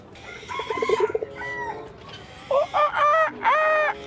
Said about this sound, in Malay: Oh, ayam serama.